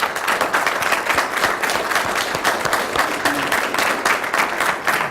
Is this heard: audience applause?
yes